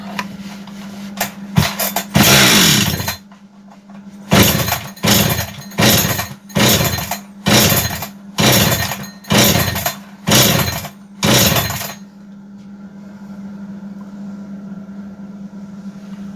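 A Husqvarna 372XP chainsaw being pull-started after carburetor work: a rapid string of loud, rhythmic pull-cord strokes with sputtering bursts, while a steady low hum runs underneath, followed by quieter background.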